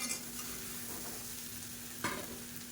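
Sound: stirring mint coconut masala and dumplings in a pan

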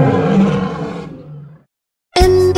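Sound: lion roaring

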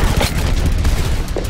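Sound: gunfire in the video game Overwatch

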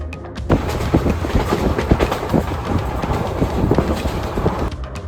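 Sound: train moving on rails

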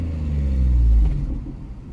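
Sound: Renault Sandero GT Line 1.0 with exhaust diffuser accelerating

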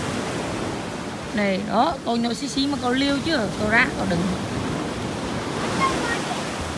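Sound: sea waves on the beach

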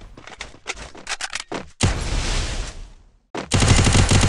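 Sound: gunfire in Free Fire video game

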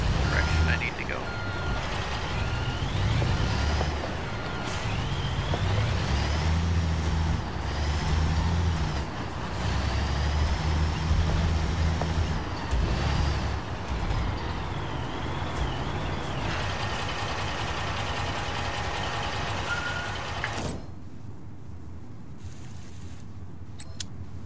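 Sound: truck driving with reversing beeps in video game Construction Simulator

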